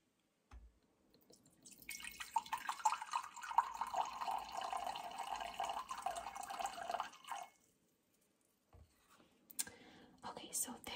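Witch hazel poured into a measuring cup set on a kitchen scale while making natural air freshener and pillow spray, giving a soft, steady liquid trickle for several seconds, close and quiet, then a few faint handling taps.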